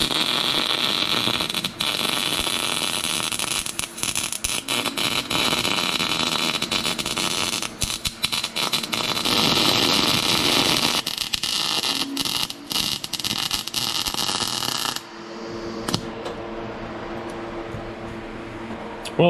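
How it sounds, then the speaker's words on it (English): MIG welding with a Miller welder on a corner of a custom steel tool tray, a steady crackling buzz for about fifteen seconds that cuts off into a quieter hum, close and loud. "Get that corner welded up."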